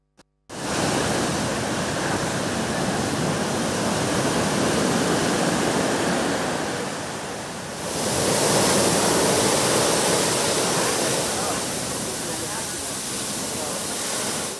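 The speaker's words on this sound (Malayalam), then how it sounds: "ഈ കടലിരമ്പം കൊല്ലം ബീച്ചിൻ്റെയും ബീച്ചിനെ സ്നേഹിക്കുന്നവരുടെയും തേങ്ങലായി കരുതാം." Sea waves roar steadily on the eroding shore of Kollam beach, a loud, continuous rushing surf that swells again about halfway through.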